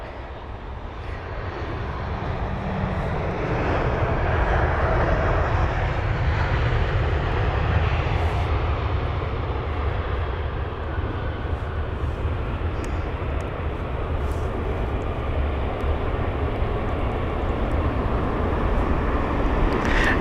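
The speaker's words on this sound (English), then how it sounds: "the Croatian Airlines Airbus A319 with the Reg 9 Alpha Charlie Tango Golf from Zagreb" A 26-year-old Croatian Airlines Airbus A319 from Zagreb on approach to London Heathrow, a steady deep engine drone building within the first few seconds and holding loud and broad throughout, with no voices.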